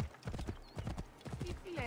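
Horse hooves clip-clop in a steady trotting rhythm on the ground in Assassin's Creed Origins, fairly close and moderately quiet, with a brief whinny partway through.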